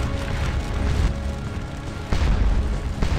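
Artillery cannon fire in the Napoleonic battle game Scourge of War: Waterloo, a dense roll of booming shots layered over a continuous battle din, loud and close with a fresh heavy boom near the middle.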